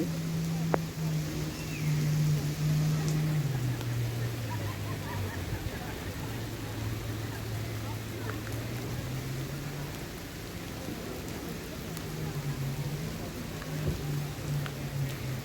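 Steady rain hiss fills the background at a beach in Sattahip, Thailand, alongside a low droning engine hum, like a boat motor, continuous throughout with no talking.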